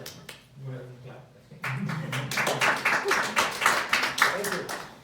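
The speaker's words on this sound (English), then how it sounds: "go ahead and clap" An audience claps after a technical talk on microservices architecture, with sparse scattered claps building into a denser round of applause, starting over quiet speech from a single voice.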